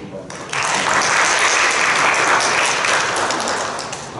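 A church congregation at a Sunday service breaks into applause that swells quickly and holds steady as a loud, dense clapping wash, tapering slightly at the end.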